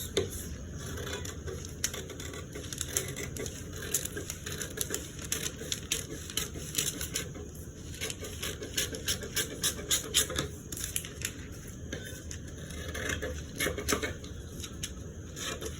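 Scissors snip through paper for a dress back piece, a steady run of close, crisp cuts and rustles with no talking.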